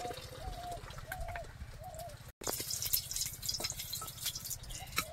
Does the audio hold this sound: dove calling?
yes